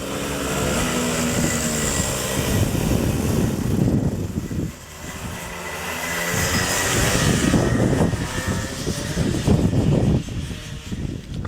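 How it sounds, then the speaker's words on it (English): Racing engines of 32 horsepower two-stroke go-karts on a track at night, a loud continuous high-pitched drone that rises and falls as karts pass, with a brief dip midway. "take out the 32 horsepower go-karts, 2 strokes, and show us what speed really meant"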